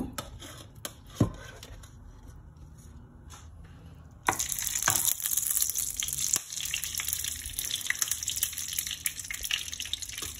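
Desi ghee for a biryani or pulao going into a hot pot, a few quiet seconds and a knock, then a sudden loud, steady sizzling hiss that continues to the end.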